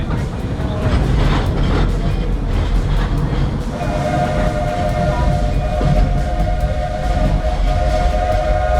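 A steam railroad train circles the Magic Kingdom at Walt Disney World, Florida, with loud continuous chugging and rolling rumble, then a sustained steam whistle blowing from the middle to the end.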